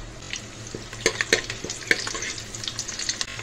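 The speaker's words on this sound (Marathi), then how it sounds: "त्याच्यामध्ये 2 पळी तेल टाकलेले आहे। आपण फोडणी देऊन घेऊया। कढीपत्ता," Leaves crackle and sizzle sharply as they hit hot oil, with a few loud pops over a steady frying hiss.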